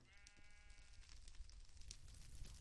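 A sheep in Minecraft, Botania Garden of Glass modpack, gives one faint, wavering bleat amid low background noise, with no talk.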